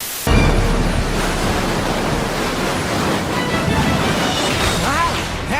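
A swirling wind whoosh from a Sonic video game cutscene roars in suddenly and holds as a loud, dense rush of noise, with faint rising tonal sweeps near the end.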